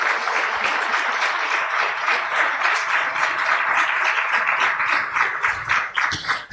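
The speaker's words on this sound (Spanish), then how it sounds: "Damos un aplauso a la palabra de Dios" A church congregation applauds after a sermon reading with dense, even clapping from many hands. It stays loud and sustained, then thins into a few sharper claps near the end.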